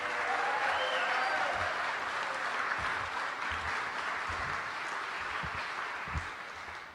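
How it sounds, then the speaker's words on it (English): Diners at an award dinner give a sustained round of applause, a broad, even roar of many hands clapping that slowly tapers toward the end. "So I'd like you to give Frank and his team a nice round of applause."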